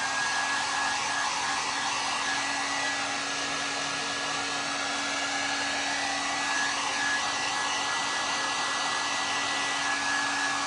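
A hair dryer blows steadily and loudly over a painted large vase, a continuous even whoosh with a faint high whine, running alone for about ten seconds.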